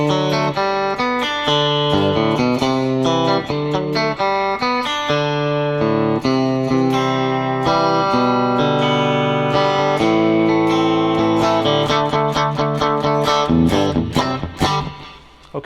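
Guitar playing the intro riff to a song, a busy, catchy run of plucked notes and chords at a lively steady pace, close and clear, with no talking over it.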